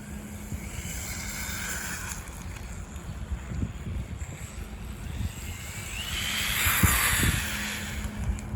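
WLToys 124008 RC car accelerating hard, a steady electric whine with rushing, wind-like noise that builds and peaks late, with no talk over it.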